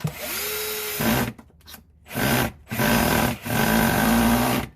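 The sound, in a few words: power drill driving screws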